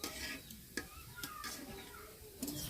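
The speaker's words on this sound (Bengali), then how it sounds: "এখন আমি একটু আলতোভাবে নাড়িয়ে দেব, দুই পাশে সুন্দরভাবে ভাজা হয়" Coconut pitha frying in a pan with a soft, steady sizzle, broken by a few sharp clinks and scrapes of a utensil gently turning the cakes; a faint voice is heard in the background.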